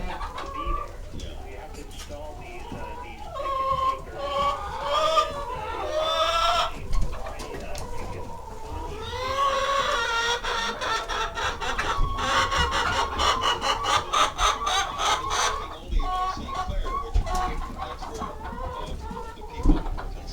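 Chickens cluck and squawk continuously, close by, with busy harmonic calls rising and falling throughout and occasional sharper bursts of agitation.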